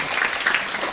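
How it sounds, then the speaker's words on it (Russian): Applause from an audience at a Russian-language show, dense and steady through a brief burst, fairly close and loud with no voices over it. "Еще раз аплодисменты."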